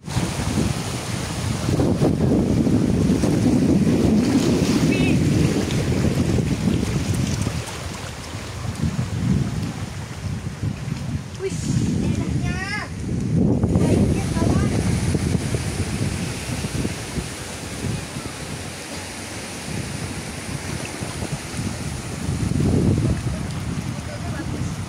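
Wind buffets a beach on the west coast of Sumatra while waves surge and wash in, a steady roar with rolling swells, and voices talk faintly in places.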